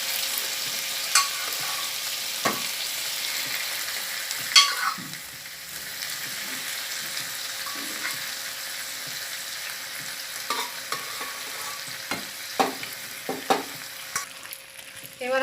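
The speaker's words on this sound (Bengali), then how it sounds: "এবার আমি মশলা আর ডাল ভালো করে মিশিয়ে নেব" Boiled dal being mixed with cooked-down tomato masala in a pan for dal fry, a low simmering sizzle broken by repeated ladle scrapes and knocks against the pan, close and without speech.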